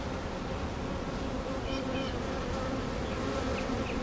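Dense steady buzzing of many honeybees at an open hive, close and continuous throughout, with no talk.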